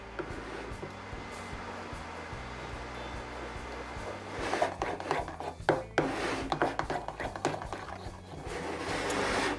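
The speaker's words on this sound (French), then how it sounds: "Puis je mélange pour obtenir la ganache." Hot cream being stirred into white chocolate for a ganache, a soft scraping and rubbing in a bowl that grows busier and more irregular in the second half, close up with no voices.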